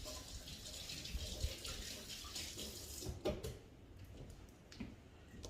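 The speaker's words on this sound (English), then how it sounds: "Wash my hands." Tap water runs steadily into a kitchen sink while hands are washed under it, with soft splashing and a few light knocks over about five seconds, the flow easing off partway through.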